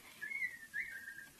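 Someone whistles softly, two short wavering notes from a little distance, faint against quiet background.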